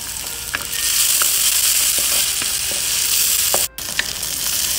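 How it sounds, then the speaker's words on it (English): Meat fries in a wok for Chinese fried rice after red onion has browned, giving a loud, dense, continuous sizzle up close, with a few faint clinks from the stirring utensil and one brief dropout near the end. "Fry a couple of minutes"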